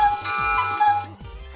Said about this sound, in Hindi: और कुत्ता।